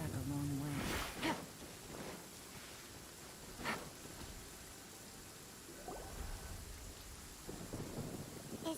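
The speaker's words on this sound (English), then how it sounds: "It's raining again? Oh. This isn't good." Steady rain and rumbling thunder claps sound in a Genshin Impact game scene. Several broad bursts of thunder rise above the constant wash of rain, and a brief voice is heard at the start.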